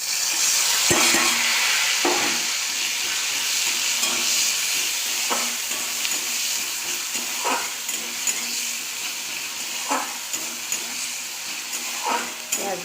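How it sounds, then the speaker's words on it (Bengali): Crushed onion fries with nigella seeds in oil, giving a loud, constant crackling sizzle. Occasional spoon scrapes and clicks against the pan recur every second or two, with no talking. "পেঁয়াজটা আমি একটু লাল লাল করে ভেজে নেব"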